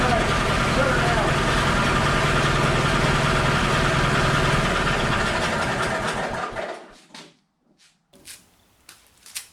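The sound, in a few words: 1982 Bush Swamper engine idling after being shut down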